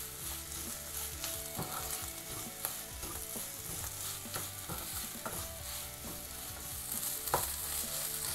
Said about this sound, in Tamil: இப்போ கருவேப்பிலையும் நல்லா வதங்கட்டும்.